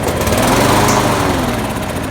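A Poulan lawnmower's small engine, its carburetor just cleaned and sprayed with carb cleaner, runs loud and steady at close range with a continuous buzzing drone and no talk.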